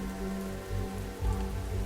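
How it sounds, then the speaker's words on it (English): Steady rain patters across a surface in a soft, even hiss, faint and unbroken, with a low sustained tone underneath. "The rain falling steadily, persistently, quenching fire, rejuvenating land."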